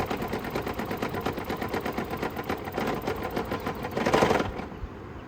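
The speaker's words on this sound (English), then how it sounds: "See, it stalls, and then it's starting back up again." A Toyota Prius hybrid engine runs with a rapid, even chugging pulse, then surges louder near the end before dropping off as it stalls.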